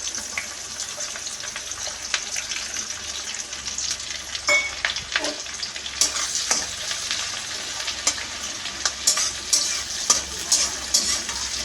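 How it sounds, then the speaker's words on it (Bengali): Chopped onions fry in oil for curry, a continuous crackling sizzle with repeated clinks and scrapes of stirring that grow more frequent toward the end, close and moderately loud, with no voices. "পেঁয়াজগুলো একটু লালচে লালচে করে ভাজা হলে তারপরে আমি আলুটা অ্যাড করব"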